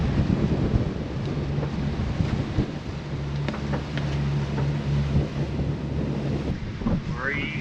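Wind blows steadily over a sailboat at sea in the Exumas, bringing a constant rushing roar, low wave wash and faint rigging tones as the boat heads out before dawn with the breeze slightly off the bow.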